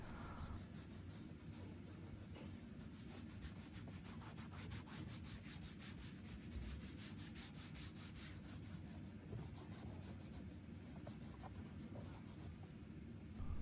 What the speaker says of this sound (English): we're just going to work at all the plastics with one of these scrubber pads